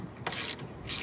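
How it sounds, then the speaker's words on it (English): A ratchet wrench loosening the bolts on a car's coolant reservoir under the hood, giving two short bursts of rapid clicking ratchet pawl strokes, close and moderately loud, with a brief pause between them. "Now we're gonna unbolt it."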